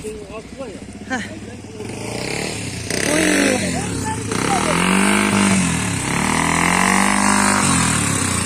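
Motorcycle engine idling and revving steadily nearby in a village setting, a loud continuous rumble that swells and dips, with people talking and calling out over it throughout.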